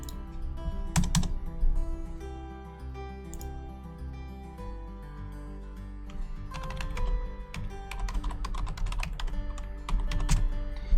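Close computer keyboard typing in rapid bursts of clicking keystrokes, with pauses between runs as a website address is entered into a link field in Google Docs.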